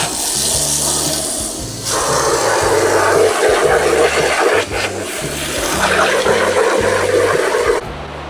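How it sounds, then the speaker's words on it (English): A steady, broad whooshing hum of an electric fan runs throughout, with some low rumbling and faint bumps underneath. "You might be able to hear the fan."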